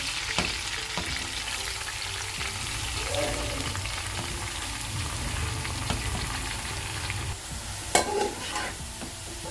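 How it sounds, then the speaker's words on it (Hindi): Grated carrots sizzle in hot oil for gajar halwa, giving a steady frying hiss with scattered stirring knocks and one louder clatter near the end, and no voices. "इसको ऑयल में अच्छी तरह से भून लेंगे।"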